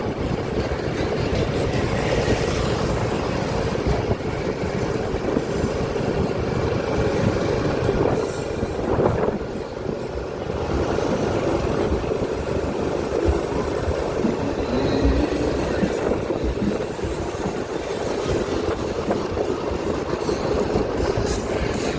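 Train on the Laos-China railway, heard from nearby on a bridge ahead, a loud continuous rumbling roll with a steady rush of wheels on rails, no talk.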